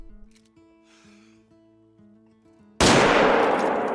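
A hunting rifle in the video game Call of the Wild fires one sudden, loud shot that breaks a quiet stretch of soft tonal game music and rings on to the end.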